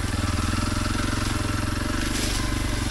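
A Kawasaki KLX 230 trail bike running through the woods, its engine putting out a steady, close, pulsing thrum at an even pace throughout.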